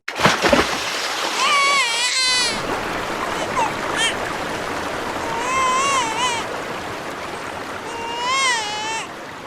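A baby falls into a river with a sharp splash at the start, followed by wavering, warbling cries that rise and fade over flowing water.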